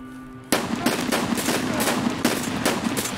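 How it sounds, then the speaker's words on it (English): Rapid SVD rifle gunfire in Escape from Tarkov rings out after a brief quiet opening, a string of loud, sharp reports at irregular intervals with echoing tails, no voices. "He's shooting a SVD, maybe?"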